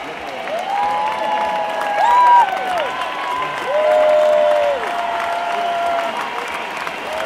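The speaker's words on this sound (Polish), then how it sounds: "Brawa, które możecie słyszeć, są właśnie dowodem uznania dla wieżyczki" Distant crowd applause for a human tower at the Diada demonstration of Catalan nationalists, a steady wash of clapping heard from far off, with voices or whistles rising and falling above it.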